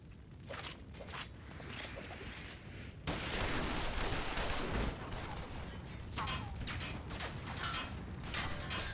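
Gunfire crackles in a Final Fantasy XIV cutscene as a quick series of faint, rattling shots over a noisy, rumbling background, ending in a louder burst partway through.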